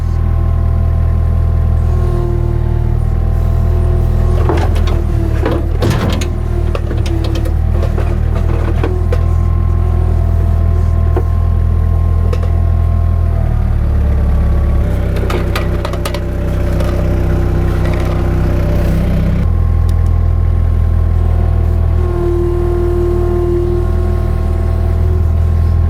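A Yanmar diesel fitted into a Cat skid steer in place of a Perkins 3034 idles warm and steady, a close, loud low rumble with a constant throb, broken by occasional clanks and rattles.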